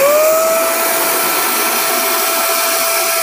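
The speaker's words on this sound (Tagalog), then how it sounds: "i-on natin yung ating vacuum ngayon" A vacuum cleaner powered from a 3 kW Zamdon off-grid solar inverter hums steadily and loudly at close range, with a bright whine that settles after a brief rising start.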